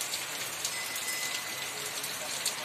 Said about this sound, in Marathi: असा पाऊस पडतोय।